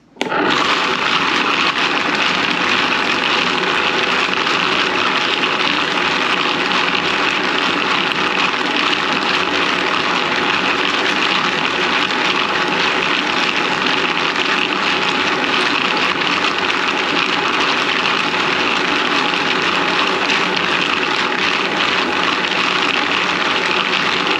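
A wet tumbler spins range brass with Dawn dish soap, giving a loud, steady, continuous churning whir and rush that runs unchanged from start to end with no talk.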